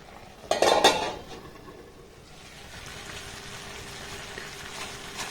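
A spoon stirring thick food in a pot on a low gas flame, a brief burst of metallic scraping and clinks near the start, then a soft steady background hiss with no talking.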